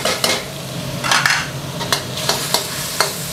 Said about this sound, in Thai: ใส่น้ำมันลงไปเล็กน้อยนะครับเพราะว่าเดี๋ยวเราจะผัดพริกกระเทียมนะครับ